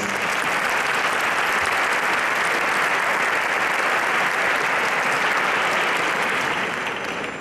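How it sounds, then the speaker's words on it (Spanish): Applause from the audience at the Silla de Oro 2018 flamenco concert final in Leganés: a dense, sustained wash of many hands clapping, loud and steady for several seconds before starting to taper at the end. "un aplauso de la organización para ellos"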